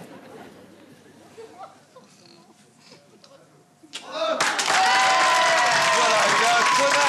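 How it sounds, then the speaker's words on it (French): Studio audience on a French television game show bursts into loud applause for a contestant, rising suddenly after a quieter stretch of murmuring and chatter, then sustaining a dense, close roar of clapping. "il y a un tonnerre d'applaudissements pour Marie-Christine"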